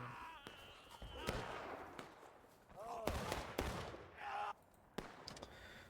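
Rapid gunfire from a Civil War battle video game, a faint, dense stream of sharp cracks and pops with distant booms, mixed under game sounds and a talking voice.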